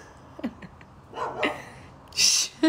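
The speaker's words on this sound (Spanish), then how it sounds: "¡Qué pesado, los perros que se ponen a ladrar así!" Dogs bark and yip indoors in short, uneven bursts, some whimpering sounds between them, close and fairly loud.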